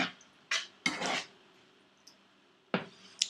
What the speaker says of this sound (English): Now just saute this for a minute and a half, so that the lamb pieces soak up all the spices.